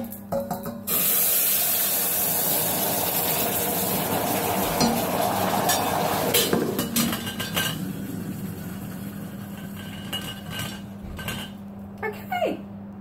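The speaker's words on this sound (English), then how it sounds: "this really sizzles and spits" Quinoa toasting in a hot pan, sizzling and spitting steadily with occasional scrapes and clinks of a utensil against cookware, then settling down toward the end.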